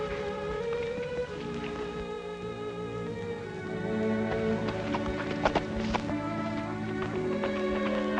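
Horse hooves clip-clop through rain in open country, steady and mid-distance, mixed with patter of raindrops and a sustained musical score underneath.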